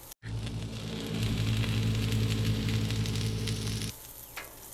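Diced, de-seeded jalapeños sizzle in chorizo juices on a Blackstone griddle, a steady close frying hiss with crackle that swells after the start and drops off sharply near the end.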